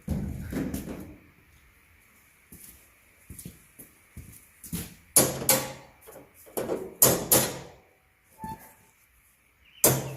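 A small hammer taps a stuck part on a Country Clipper mower, sharp metallic taps in short bursts with pauses between them, close by, alongside a few softer knocks.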